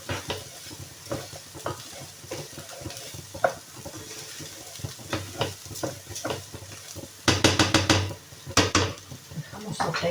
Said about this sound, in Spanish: Dejamos sofreír un poco.